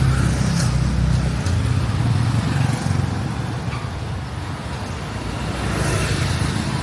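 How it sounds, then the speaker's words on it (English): Heavy road traffic streams steadily along a busy street, a constant close rumble of cars and motorbikes with no breaks and no voices. "look at the traffic coming down here"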